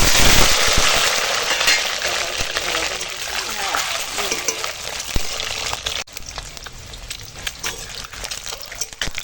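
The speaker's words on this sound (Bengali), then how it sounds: "নকল ডিম ভাজা হয়ে গেল" Mock egg frying in oil in a pan, a broad hissing sizzle that fades somewhat over time, with scattered crackles and a stir or two, close by.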